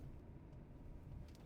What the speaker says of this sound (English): this is like engine sound, no exhaust sound, just engine.